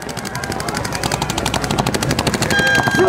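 Paintball markers firing at a PSP tournament in Chicago, a loud, fast, continuous stream of rapid pops from several guns, close by and overlapping, with no talk.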